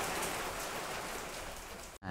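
The season's first rain falls steadily in the U Minh forest of southern Vietnam, a dense, even hiss of drops on surfaces that continues throughout and then cuts off abruptly at the end.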